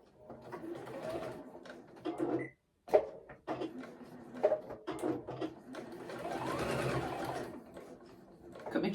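A home sewing machine stitches a fabric scrunchie, its motor whirring in short bursts with a brief stop partway through, close and moderately quiet.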